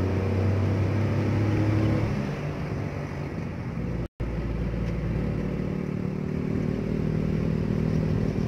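An old, smoky, broken-down motorcycle engine running close by with a rough, rattling idle, steady and loud throughout except for a momentary cut partway.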